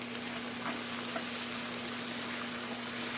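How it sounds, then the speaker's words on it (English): Baby lobster tails fry in a pan over medium heat, giving a steady, close, continuous sizzle with a faint constant hum beneath it. "I have this on medium heat, and you just let them cook"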